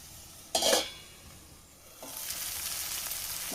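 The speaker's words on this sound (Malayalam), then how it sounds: "ലോ ഫ്ലെയിമിൽ വെച്ച് കഴിഞ്ഞിട്ടാണ് ഞാനിതിപ്പോൾ ഫ്രൈ ചെയ്തെടുക്കുന്നത്" Whole tomatoes, whole garlic and onion frying in a pan over a low flame: a brief bright sizzle burst, a pause, then a steady close hiss of frying that continues to the end, no voices.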